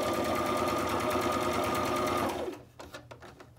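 A sewing machine runs a straight stitch through fabric with a fast, steady whirring hum, then stops abruptly, leaving a few soft clicks and handling sounds.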